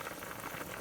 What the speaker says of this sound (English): So we have our beef boiling.